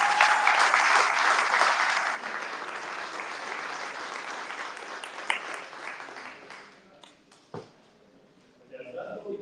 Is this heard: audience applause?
yes